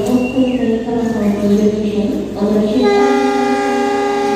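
The Sancaka passenger train pulls away from Madiun station, its horn sounding in long steady tones while a crowd chatters nearby and station announcements echo faintly.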